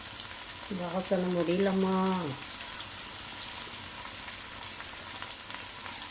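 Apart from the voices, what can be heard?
food deep frying in oil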